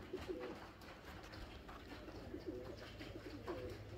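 Domestic pigeons coo softly at a distance in a few repeated low phrases over steady background rumble and rustling.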